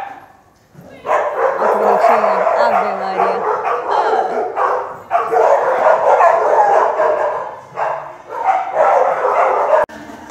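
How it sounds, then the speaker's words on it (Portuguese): Many dogs at a crowded dog park bark and yip in busy overlapping bursts, loud and near, while someone talks over them. "Ó, tá lotado de cachorro hoje."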